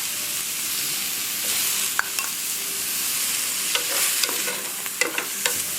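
Mussels going into a seafood paella cooking on high heat, with a constant bright sizzle and frying hiss broken by scattered clicks and scrapes of shells and stirring.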